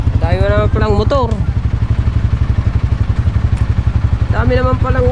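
Motorcycles ride along a road, their engines a steady, close, pulsing thrum that lasts the whole time, while someone talks over it at the start and end.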